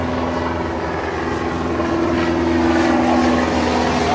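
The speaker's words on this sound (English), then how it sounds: "If that plane had a engine failure now, had to land here" A fixed-wing airplane on approach to the Archerfield runway drones overhead, a steady loud engine roar with a sustained humming tone that builds slightly as it passes, with no talking.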